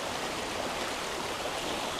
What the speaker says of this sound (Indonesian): Dan kita bisa melihat air sungai yang mengalir ini